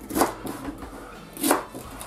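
Leek and celery being chopped for cassoulet, two soft knife strikes on a board about a second apart, faint and close, with quiet rubbing between them.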